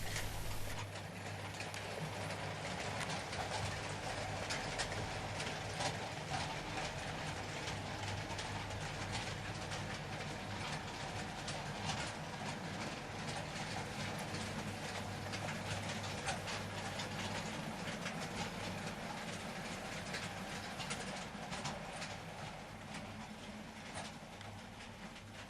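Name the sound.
C2X locomotive departing goods yard with a northbound train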